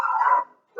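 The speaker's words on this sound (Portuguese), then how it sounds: "Cachorro." A dog gives a single bark or yelp, loud and close, followed by a short silence and the start of another sound at the end.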